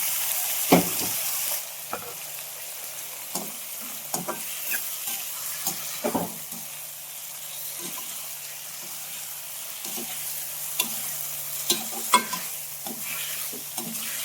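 Tomatoes and onions frying together in a pan for a tomato egg curry, with a steady sizzle and repeated stirring scrapes and clinks at an even, close pace.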